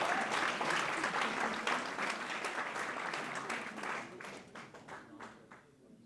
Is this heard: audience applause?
yes